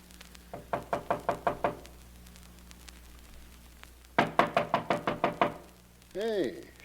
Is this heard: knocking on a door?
yes